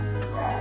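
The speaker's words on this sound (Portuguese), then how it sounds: "Tá um barulho de cachorro aqui" A dog barking indoors in a home kitchen, two short close yips over a low steady hum.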